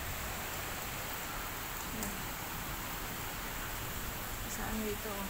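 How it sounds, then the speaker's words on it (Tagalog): Steady, dense hiss of heavy rain fills the whole stretch, with a few brief clicks and a faint voice underneath. "Lakas ng ulan guys."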